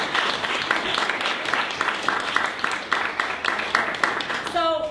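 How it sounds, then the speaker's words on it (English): Audience applause after a business talk by Meaghan McCann, a steady wash of many hands clapping that runs the whole time without pause, fairly loud and close, with a brief tonal chirp near the end. "Let's get back in a round of applause"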